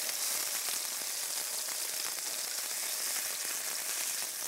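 Lamb chops sizzling in a hot pan, a dense, continuous crackling hiss that stays loud and even throughout, with no voices.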